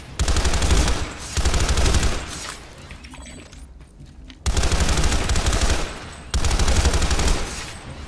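A burst-fire Terran Republic assault rifle in the PlanetSide 2 shooter game fires in several rapid, loud volleys separated by brief pauses, up close and without speech.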